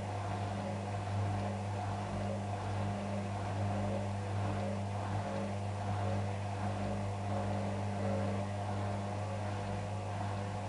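A Hotpoint WM63 washing machine's drum turning as it balances a load of whites before spinning: a steady, fairly loud mechanical hum with a low motor drone and continuous whirring, with no talk over it.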